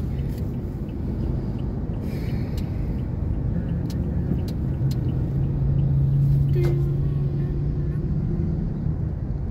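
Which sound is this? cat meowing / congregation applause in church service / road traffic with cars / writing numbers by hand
road traffic with cars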